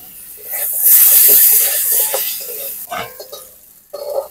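Cut potatoes frying in hot oil with turmeric and salt, giving a loud, steady sizzling hiss that swells at first and then settles, with a few clattering stirs near the end.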